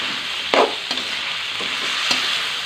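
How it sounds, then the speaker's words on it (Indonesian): Spicy tuna curry with salt, seasoning and sugar simmering down in a pan, a soft continuous bubbling hiss broken by a few sharp stirring knocks, close and alone. "Ini kita masak lagi sampai airnya menyusut dan bumbu meresap."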